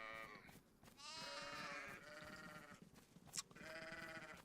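Sheep bleating in a video game, two or three drawn-out wavering bleats in quick succession, fairly close and alone with no talk.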